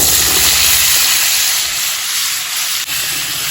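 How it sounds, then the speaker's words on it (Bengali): Potatoes going into hot oil in a wok throw up a loud, steady hiss and sizzle that fills the whole clip, with low clattering below it and no speech. "কড়াইয়ে তেল দিয়ে দিয়েছি এবার আলুগুলো দিয়ে দেবো"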